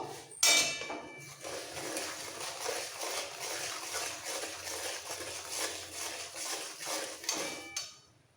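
Small pona fish being stirred with turmeric powder in a pan for a spicy jhal, a continuous close scraping and clinking of a utensil against metal with a sizzling hiss underneath.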